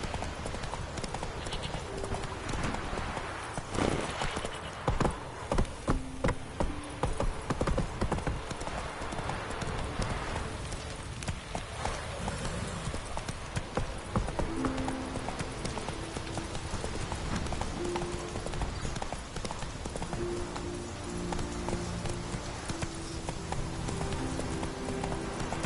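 Roach the horse galloping in The Witcher 3, rapid rhythmic hoofbeats clip-clopping close and loud, with faint game music tones surfacing later.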